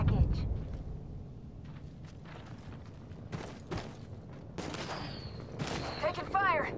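Gunfire in the Apex Legends video game: scattered sharp shots and short bursts, some loud and close, with game voices speaking between them.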